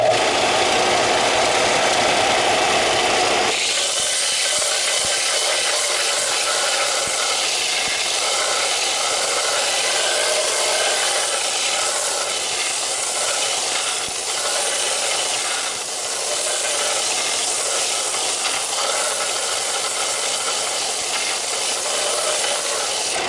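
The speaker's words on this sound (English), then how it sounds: "Indeed, it does sand, and it did take a little chunk off there" Central Machinery 97181 belt disc sander grinding a piece of hard Damascus steel, starting after a few quiet seconds, then a steady, loud, close abrasive rasp that runs without a break and with no talking.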